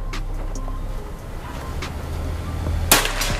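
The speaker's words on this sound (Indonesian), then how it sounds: "Kita lanjut untuk tembakan yang ketiga" A PCP Predator air rifle fires a slug once near the end, a single sharp, loud crack that stands out against a quiet outdoor background.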